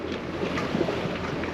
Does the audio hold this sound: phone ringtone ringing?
no